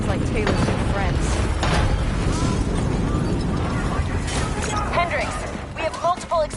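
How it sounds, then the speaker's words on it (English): Explosions boom across a facility in Call of Duty: Black Ops 3 amid chaotic combat, with bursts and rumbling debris layered under urgent talk and radio chatter throughout. "we have multiple explosions across the facility"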